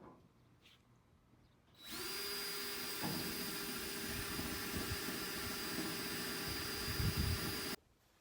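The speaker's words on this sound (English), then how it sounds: "So we're going to drill our holes in all the way around." A power drill bores holes into the metal body of a Ram Promaster van during a rear window install, starting abruptly after a quiet moment and whining steadily at high speed for several seconds before cutting off.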